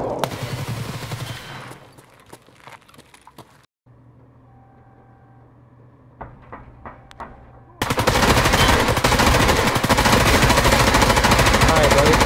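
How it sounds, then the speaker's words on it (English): Gunfire with rounds being fired, first scattered sharp shots amid noise, then a pause with faint tones, then dense, loud continuous automatic bursts filling the last seconds. "I'm gonna be blowing off some rounds."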